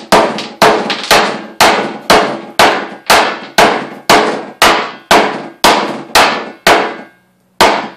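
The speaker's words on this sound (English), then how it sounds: "the reason we're pounding it so far down into this wood, the handle" A hammer pounds a rivet deep into the wooden handle of a Viking round shield, about a dozen loud, close, evenly spaced strikes with a short gap near the end.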